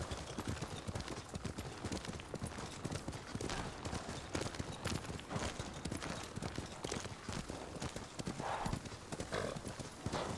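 Rapid clip-clop of horse hooves galloping continuously in the video game Ghost of Tsushima, loud and close, with a dense rhythmic clatter throughout.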